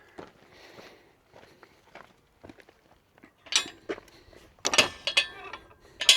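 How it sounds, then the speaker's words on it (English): Irregular metallic tapping and light clinks of a camping cooker rattling inside a titanium pot in a backpack, mixed with rustling movement; faint and close. "It's just my cooker itself tapping against the wall of the titanium pot"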